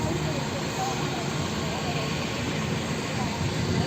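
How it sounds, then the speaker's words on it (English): A plane passing overhead, heard as a steady broadband engine roar that stays loud and continuous throughout, near a boat. "It's a plane coming."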